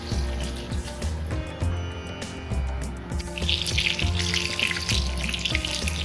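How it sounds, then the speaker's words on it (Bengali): Pieces of chital fish belly fry in hot oil, a steady crackling sizzle that grows denser and brighter in the second half, with faint clinks of a pan nearby and no talking. "মাছ ভাজা হয়ে গেছে"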